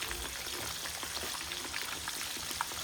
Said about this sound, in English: I mashed them so we can fry them once again.